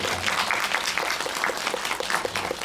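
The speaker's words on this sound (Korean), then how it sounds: "박수 한번 부탁드리겠습니다" An audience at a Korean film guest-visit screening event claps steadily, a dense wash of applause that holds at an even level throughout with no voices.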